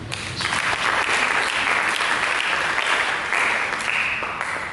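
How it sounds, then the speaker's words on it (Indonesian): A church congregation breaks into loud, sustained applause during a sermon. Dense clapping fills the space for nearly five seconds, with no pause and no talk. "Berikan tepuk tangan."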